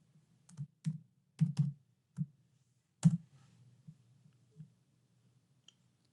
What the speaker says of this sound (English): In the cell G1, which is referenced in the formula, I will type the name of a country.